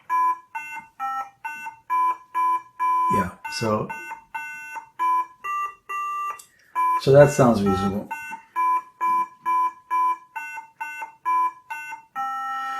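A computer beeper plays a melody of short, bright square-toned notes in a bouncy rhythm, with brief bits of talk breaking in twice.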